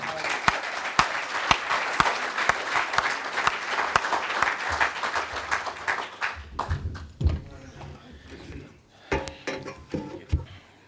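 An audience at a poetry gathering breaks into enthusiastic applause to welcome a poet, dense clapping that thins into scattered claps and a few voices toward the end.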